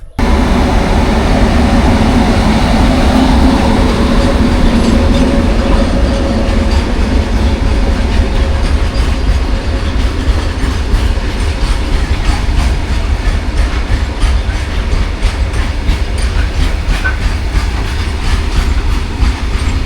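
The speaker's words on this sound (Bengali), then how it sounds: "মাল ট্রেন এগেন" A long goods train loaded with coal, more than sixty wagons, rolls past at close range near Farakka, its loud continuous rumble and steady clatter of wheels filling the whole stretch without letup.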